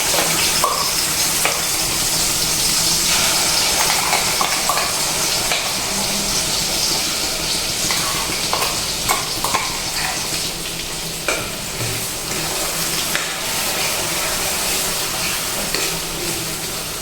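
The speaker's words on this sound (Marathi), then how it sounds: "अगदी मंद आचेवर आपल्याला मसाला तेलामध्ये व्यवस्थित शिजवून घ्यायचा आहे।" Spice masala with curry leaves cooks in four to five spoons of oil over a very low flame for a spicy village-style drumstick dish, a steady close sizzle and hiss with faint stirring clicks throughout, no voices.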